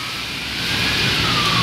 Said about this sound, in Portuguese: Tem ambulância para todo lado aqui.